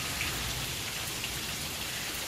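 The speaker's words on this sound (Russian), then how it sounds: "Хороший дождь идет, прям хороший" Steady rain falls in a village, pattering densely on surfaces nearby, an even, moderately soft downpour with no voices.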